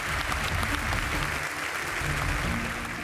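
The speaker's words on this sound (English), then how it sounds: "Big round of applause." Steady applause from an award ceremony audience honouring the winners, dense and sustained throughout at a moderate level.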